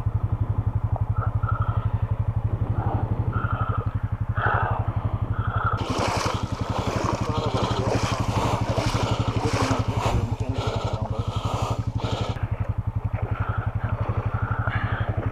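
The engine of a Swamp Cat amphibious vehicle runs steadily at a low, throbbing idle in a forest setting, loud and close, with rattling and clatter rising over it partway through.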